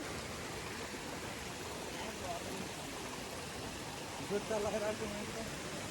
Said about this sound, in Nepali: यो चाहिँ हाम्रो सानो ह्यात्रुङ झरना।